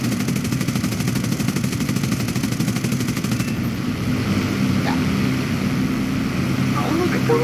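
Rapid machine gun fire in a P-40 Warhawk flight combat game, a fast rattling burst over a droning propeller engine that carries on after the shooting stops, with a player talking over it.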